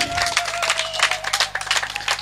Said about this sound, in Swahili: Kuja tumpigie makofi.